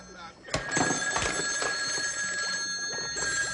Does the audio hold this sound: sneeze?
no